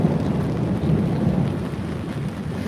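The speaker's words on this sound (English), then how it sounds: "Wow, that sounds crazy, that storm." A heavy thunderstorm with steady loud rain and deep rolling thunder, close and continuous throughout with no voices.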